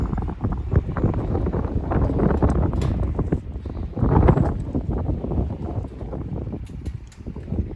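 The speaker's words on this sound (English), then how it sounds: "this thing is shaking in the wind" Wind blowing hard through an abandoned brick factory, shaking a loose structure: continuous gusty rumble with irregular creaks and rattles throughout, close to the microphone.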